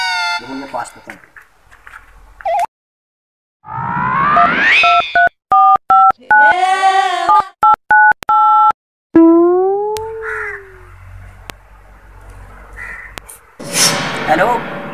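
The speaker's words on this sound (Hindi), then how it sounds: "अब अभिषेक के पास फोन करता हूँ" Short electronic phone tones beep in a quick series as a call is placed, between bursts of voice-like sounds and brief silences.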